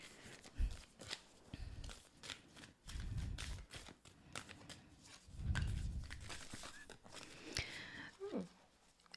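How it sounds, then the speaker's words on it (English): Tarot cards riffled and shuffled close by, bursts of papery flutters and taps coming in uneven rounds, with soft handling noises between. "And I am shuffling, as you can probably hear."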